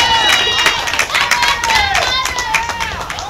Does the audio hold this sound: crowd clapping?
yes